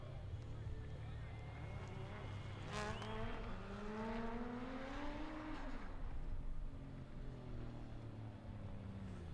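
A drift car on a competition track in Minsk, engine note rising and falling in long sweeping glides at a moderate distance, heard under a commentator's talk.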